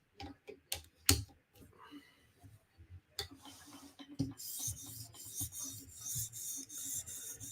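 A custom knife blade being sharpened and polished on an 800 grit abrasive, heard as close, quiet scraping and rasping strokes, sparse at first and then settling into a steady run of rubbing passes.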